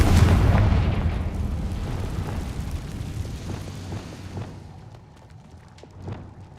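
A Confringo fire spell explodes in Hogwarts Legacy, opening with a loud booming blast that rumbles and slowly decays, followed by faint crackling debris and a smaller thud.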